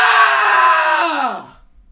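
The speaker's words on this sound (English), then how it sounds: "Give me a bigger scream." One loud, sustained scream from a single voice, held at high pitch before sliding down and cutting off into silence.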